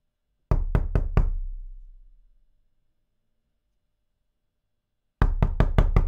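Four sharp knocks rap on a door, followed by a pause of silence and then a second, quicker run of five knocks; loud, close and with no voices.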